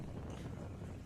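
Wind buffets the microphone at a rugby league ground during a Fremantle Roosters men's premiership match in Western Australia, giving a faint but steady low rumble and rustle with no talking.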